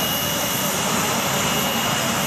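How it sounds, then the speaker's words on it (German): A Spartan C-27 aircraft taxis at an air show in Zeltweg, giving a loud, steady broadband engine roar that fills the whole clip without a break. "Mittlerweile rollt hier die Spartan C-27"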